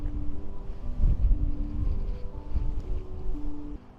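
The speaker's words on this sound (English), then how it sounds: "it's very windy, the camera's moving around" Strong wind buffeting a camera microphone outdoors, a steady low rumble with gusty swells that peak around the middle before easing, continuous throughout with no talking.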